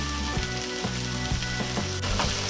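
Garlic shrimp frying in a pan give a loud, dense, continuous sizzle, close up, with occasional soft knocks and clinks from the pan and utensil, and no talk.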